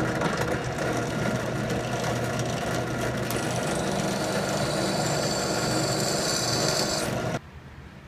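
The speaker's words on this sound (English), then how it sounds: "Now it's time to take it over to your drill press. Just chuck your right bit and drill away." A drill press bores holes in a knife handle, giving a steady, loud whirring and grinding that runs unbroken for about seven seconds, then cuts off abruptly into quieter room noise.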